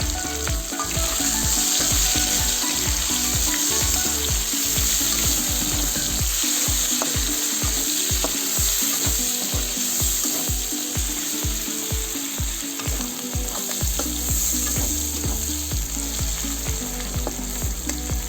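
Spice paste frying in oil in a pan with bay leaves and whole cumin, cooking down for a Bengali taro stem dish; a steady, loud sizzle runs throughout with rhythmic scraping and stirring knocks from a utensil.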